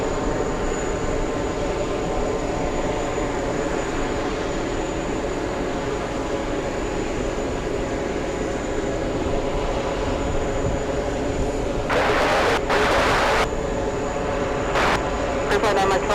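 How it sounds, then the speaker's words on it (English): JetBlue airliner arriving at JFK from Boston, a steady loud engine roar throughout with bursts of noise near the end. "This one coming in, flying in from Boston, Massachusetts, JetBlue's 617."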